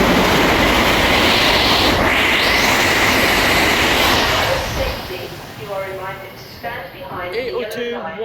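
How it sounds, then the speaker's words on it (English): A Great Western Railway service from Plymouth to London Paddington speeds through Slough station with a loud, sustained rush and roar that fades after a few seconds, followed by rhythmic wheel clatter. "Passing through now is a Great Western Railway service from Plymouth to London Paddington."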